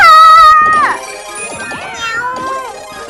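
Cartoonish cat meows from the Super Mario 3D World video game, a loud sustained meow at the start followed by softer chirpy game effects and chimes.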